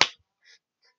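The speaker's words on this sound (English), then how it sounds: "And then Beth just slapped him." A single sharp slap in a WWE Raw wrestling broadcast, as Beth delivers it to Randy Orton, lands as one loud crisp smack right at the start, followed by faint scattered crowd-like noise.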